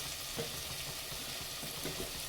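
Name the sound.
mutton masala sizzling in tempering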